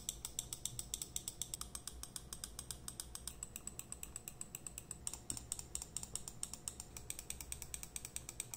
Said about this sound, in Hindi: click sound test